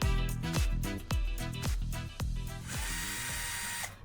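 Power screwdriver tightening screws while installing an FPIC card in a Huawei NetEngine 8000 F8 router, several short loud whirring bursts in a steady rhythm, followed by a longer continuous whine near the end.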